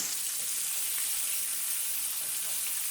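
KFC-style popcorn chicken deep frying in hot oil, a dense, even bubbling sizzle with a constant hiss, steady and unbroken throughout.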